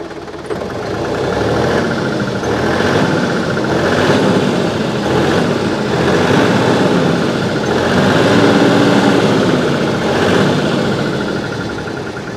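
A tractor engine runs at a steady idle close by, with a continuous low rumble and a faint rhythmic pulsing and no talk over it.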